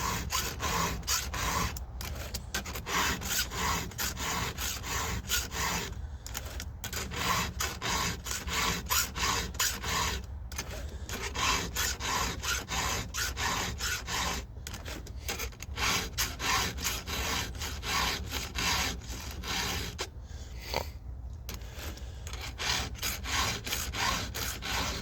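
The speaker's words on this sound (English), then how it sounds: "you want to be filing across the cutting edge" A hand file rasps across the cutting edges of a chainsaw chain in steady, repeated strokes, each a dry scraping pass with brief gaps between them, close up and without talk.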